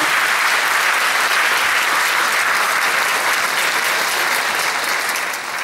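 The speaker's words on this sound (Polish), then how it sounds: "Także wielkie brawa dla Was, że jesteście." Loud, dense, sustained applause from a large audience at a vocal and acting studio's diploma concert in Gdynia, steady and continuous throughout without a break.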